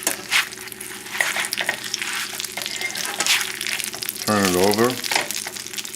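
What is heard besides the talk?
breaded chicken breast frying in oil, fat popping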